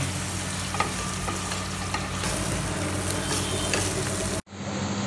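Cashew ghee rice being stirred and fried in a pan in a hostel kitchen, with a loud, steady sizzle and scraping stir strokes close by, ending with a sudden brief cut.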